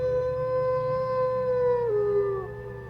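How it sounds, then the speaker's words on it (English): A coyote in the Sherlock Holmes and the Hound of the Baskervilles video game lets out a single long, clear, sustained howl that bends downward at the end, heard alone. "it's a coyote"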